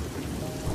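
Steady heavy rain pours down, with a low rumble of thunder beneath the hiss, loud and continuous.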